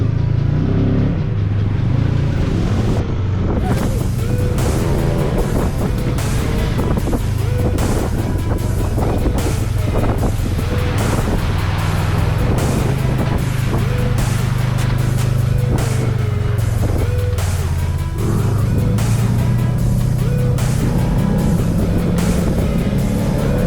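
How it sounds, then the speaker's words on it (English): Dirt bike ridden on a Moab group trail trip, engine roaring continuously with heavy wind buffeting the microphone, loud and close throughout. "Dirt bike."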